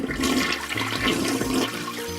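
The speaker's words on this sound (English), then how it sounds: "he threw the dirty toilet paper into the toilet and gave it a flush" A cartoon toilet flushes with a sustained rushing, gurgling swirl of water that fills the whole moment, loud and close, with no talking over it.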